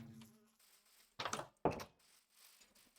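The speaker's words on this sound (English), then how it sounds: "while the bees are having fun in there" Bees from the Minecraft modpack All The Mods 9 give two short, close buzzing bursts a moment apart, with near silence before and after.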